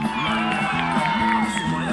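A crowd at a school olympics opening parade in a stadium cheers and whoops continuously as teams march in, children's shouts rising through the steady roar.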